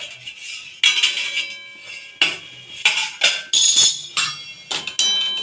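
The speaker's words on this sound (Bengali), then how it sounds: "তো এবার ঢাকনাটা খুলে দেখব।" A cooking pot lid is lifted off while yard-long beans are being boiled for a bharta, giving a series of sharp metallic clinks and clatters, close and fairly loud, in irregular bursts with no talk.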